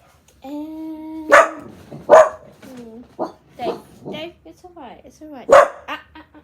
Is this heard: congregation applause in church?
no